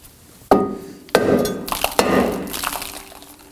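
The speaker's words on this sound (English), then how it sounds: "I'm going to go ahead and use our mallet, and we're going to hit the rotor" A mallet strikes the rear brake rotor on a 2005-2009 Subaru Legacy, three sharp metallic whacks spaced about half a second to a second apart, each ringing briefly, close up with no talk.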